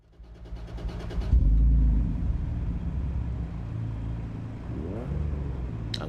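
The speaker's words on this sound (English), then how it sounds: "I like the sound of the car." A race car engine in the Assetto Corsa EVO racing game drones loudly and steadily, swelling early, then holding a constant rumbling note, with a brief rising rev shift near the end.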